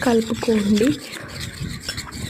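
A spoon stirs honey into a thick homemade face-pack paste in a small bowl, giving a soft rubbing, scraping sound up close, with a voice heard briefly over the start.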